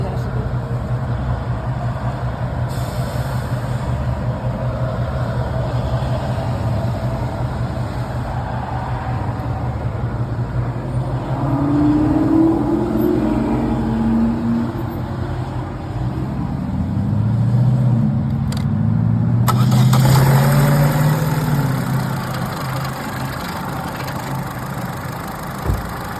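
A car engine runs after a spark plug replacement, settling into a steady, loud idle with a rising, revving passage midway and a smooth, buzzy tone throughout; voices can be heard faintly around it.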